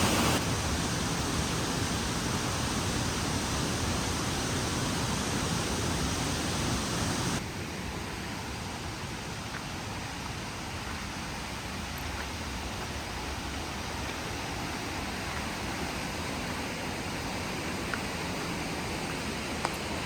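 Steady broadband rush of a waterfall along a winter trail to Lake 22, a continuous close roar that drops slightly in loudness partway through and then holds an even, dense hiss with no voices.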